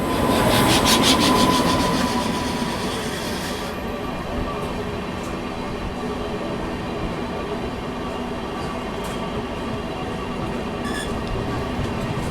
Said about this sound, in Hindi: यहाँ पर अभी सामने से आ रही है गया नई दिल्ली महाबोधि एक्सप्रेस